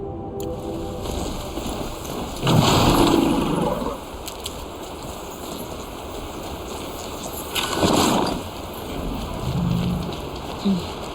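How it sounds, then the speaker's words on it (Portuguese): Steady rain falls in the Horizon Zero Dawn game world, a constant hiss with two louder gusts of downpour partway through, no voices. "A chuva tá parando."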